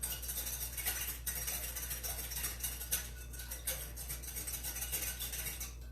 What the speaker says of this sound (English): So I'm just going to mix up these wet ingredients.